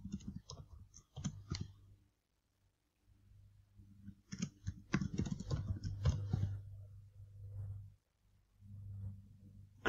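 Keys clicking on a computer keyboard as a password is typed, in short bursts of taps separated by pauses, with a longer, denser run in the middle; close and fairly quiet.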